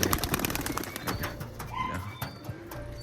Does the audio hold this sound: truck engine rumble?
no